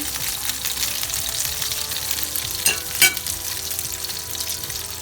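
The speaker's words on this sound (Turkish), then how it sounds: "Kızarmaya başladılar. Gayet güzel kızarıyorlar." Homemade hamburger patties fry in a hot pan with a dense, steady sizzle and crackle throughout, close and loud, punctuated by a couple of brief sharp clinks near the end.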